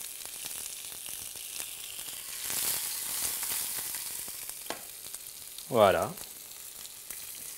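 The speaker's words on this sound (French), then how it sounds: "c'est bien les saisir sur la première face afin de les raidir" Butterflied shrimp sear in a frying pan with a steady, close sizzle running throughout, a brief scrape or stir partway, and a short spoken word near the end.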